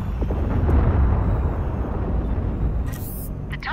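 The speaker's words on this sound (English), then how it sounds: "Just fire my missiles off." Missiles launch from a ship in the space combat game Fractured Space, heard as a loud, sustained low roar with a few sharp higher bursts near the end.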